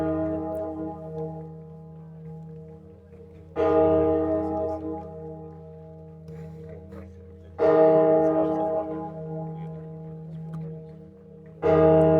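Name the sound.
church bells of Notre-Dame de la Garde ringing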